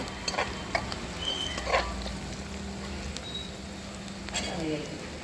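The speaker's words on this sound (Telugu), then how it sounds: "కొద్దిగా ఆనియన్స్ మగ్గినాయి, పసుపు వేస్తున్నాను." Onions with turmeric frying in a pan over a wood-fired stove make a low, faint sizzle and crackle, with a few soft stirring scrapes and clicks, under a spoken voice.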